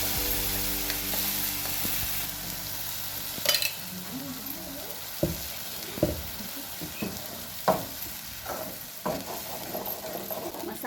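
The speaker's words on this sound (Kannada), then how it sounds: "ಉಳ್ಳಾಗಡ್ಡಿ ಎಣ್ಣೆ ಒಳಗೆ ಸ್ವಲ್ಪ ಚೆಂದಾಗಿ ಫ್ರೈ ಮಾಡ್ಕೊಳ್ಳೋಣ." Onions and ground masala frying in oil in a pan for a North Karnataka bitter gourd stir-fry, a steady close sizzle broken by several sharp scraping stirs of a spoon against the pan.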